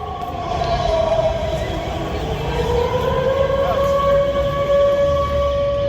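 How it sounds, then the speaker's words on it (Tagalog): A drill siren wails over Manila, its sustained tone slowly rising and shifting in pitch, loud and steady above a busy crowd murmur and street noise. "narinig nyo yung siren"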